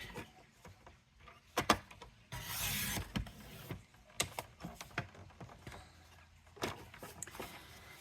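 Paper trimmed on a Crafter's Companion trimmer for a collage Christmas card, with scattered close clicks, rubbing scrapes and a brief harsh slicing rasp midway.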